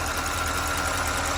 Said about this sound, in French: donc là j'ai démarré le moteur.